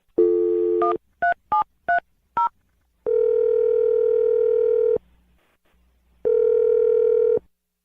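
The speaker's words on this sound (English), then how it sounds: "We're going to dial the phone number right now" Telephone line with a short burst of tone, then a quick series of touch-tone dialing beeps, followed by two long steady ringback tones separated by silence, clear and close.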